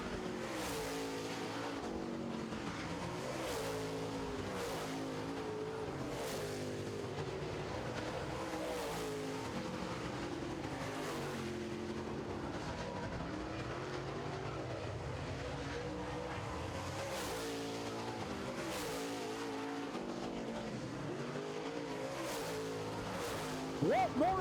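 Late model race cars circling a racetrack during a feature race, engines droning and rising in repeated passes at moderate distance under continuous announcer commentary.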